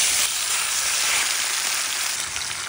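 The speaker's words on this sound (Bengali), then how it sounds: "এখন ফ্রাই প্যানের মধ্যে সোয়াবিন তেল দিয়ে করকরা ভাজা করতে হইবে" Faha fish frying crispy in soybean oil in a frying pan, giving a steady, loud, close sizzle that holds without pause throughout, with no speech.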